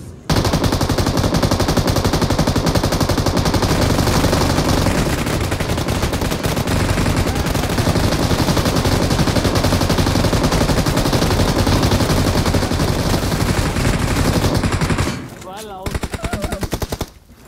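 Sustained M249 machine gun fire in the PUBG Mobile video game, a loud, dense, continuous burst lasting many seconds before cutting out, then a short final burst.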